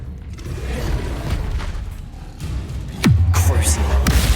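A Confringo spell blast in Hogwarts Legacy lands as a booming explosion near the end, over rumbling combat ambience.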